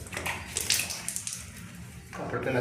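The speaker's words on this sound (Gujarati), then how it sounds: "પેલા જઈએ છીએ આપણે મોટું ધોવા" Water splashes in short, uneven bursts as someone washes their face with water from a home tap, close and moderately loud, pausing briefly before splashing resumes.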